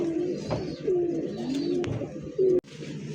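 A pair of white-beaked Bombay pigeons coo close by, a steady run of soft throaty calls repeating through the clip with brief rustling between them.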